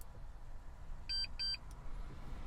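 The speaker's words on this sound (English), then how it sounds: "we'll hear it beep to let you know programming started" Two short, high electronic beeps in quick succession from a Ford F-150 key programmer signalling programming has started, clear but modest in level, over a quiet low hum.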